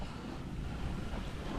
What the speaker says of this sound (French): Nous avons du vent.